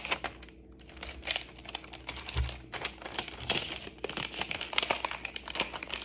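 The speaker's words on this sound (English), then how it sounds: "if we just unwrap this shit" Packaging on a new laptop bought for $1,400 being unwrapped up close, a steady run of plastic crinkling and rustling with scattered small clicks and taps, and no voices.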